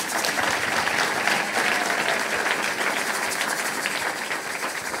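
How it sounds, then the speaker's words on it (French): A church congregation applauding, steady dense clapping that holds loud for the whole stretch, with no voices over it. "Est-ce qu'on peut acclamer pour cela?"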